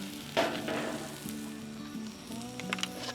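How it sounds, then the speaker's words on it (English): Avocado oil spritzed onto a hot Blackstone griddle near 400 degrees gives a quiet, steady sizzle with a few faint clicks and scrapes at close range. "I'm gonna spritz it with some avocado oil"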